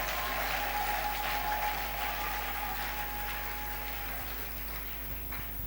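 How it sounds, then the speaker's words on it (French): A church congregation applauds during a Friday worship service, steady sustained clapping filling the room throughout, fairly distant and even without pauses. "maboko makasi acclamons pour Jésus-Christ."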